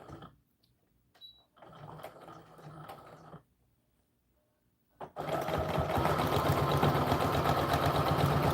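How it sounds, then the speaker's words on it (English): A sewing machine starts and stops briefly a few times, then runs steadily and loudly with a rapid mechanical stitching rhythm. "let's bring our sewing machine over"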